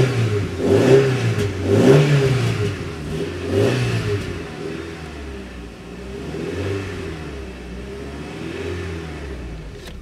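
A car engine, recently taken apart along with its intake, runs unevenly nearby, revving up in a few rough surges before settling into a lower, steadier idle.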